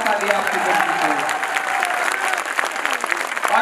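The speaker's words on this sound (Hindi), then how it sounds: "इस पे और जोरदार ताली आपकी बजनी चाहिए" An audience at a poetry recital applauds loudly and continuously, a dense crowd clapping that holds steady for several seconds.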